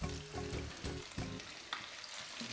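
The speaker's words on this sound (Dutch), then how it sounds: "Pak je een beet en doe je hem zo in de frituur." Battered pieces of fish for kibbeling sizzle and crackle in a deep fryer, with several distinct bursts of bubbling as each piece drops into the hot oil, up close and alone.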